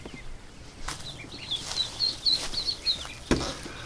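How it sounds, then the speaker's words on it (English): Day-old chicks chirp in a run of thin, high peeps, faint and fairly close, with a few soft knocks and rustles around them. "Doug's very interested because it's day old chirping sound"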